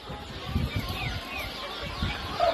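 Chickens clucking in a cage on a small farm, several birds making soft overlapping clucks at close range, with light background noise throughout.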